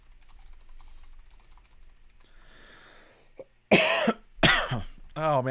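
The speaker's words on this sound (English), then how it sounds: "Oh, man, I wish I could stop coughing" A man coughs hard twice in quick succession, loud and close, after a stretch of quiet keyboard typing and room noise, then starts speaking.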